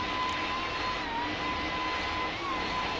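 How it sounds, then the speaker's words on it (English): An airplane descending toward the runway, a steady droning engine roar with a faint whine, continuous and even for a few seconds with no voices. "The plane descends to the runway."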